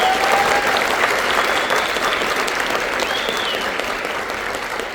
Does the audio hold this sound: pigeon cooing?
no